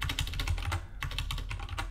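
Rapid, uneven typing on a computer keyboard while writing code, with dense clattering keystrokes close up and a brief pause midway before the tapping resumes.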